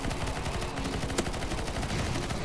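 Rapid gunfire from CS:GO zombie mode, a dense stream of shots and bursts crackling continuously at moderate level with one sharper crack near the middle, no talk.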